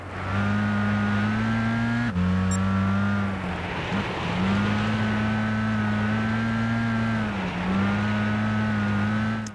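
A rally car on a snow course in Gran Turismo 6 holds a loud, steady engine drone close up, the pitch dipping and climbing again at each shift and corner, with faint skids and no speech.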